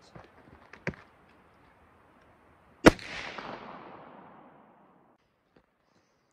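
A single sharp rifle shot from a 7.62x39 (AK-47) round cracks loudly nearby and echoes away over a couple of seconds in an outdoor setting, preceded by faint handling clicks.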